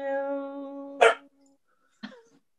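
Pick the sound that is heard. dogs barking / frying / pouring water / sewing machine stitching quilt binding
dogs barking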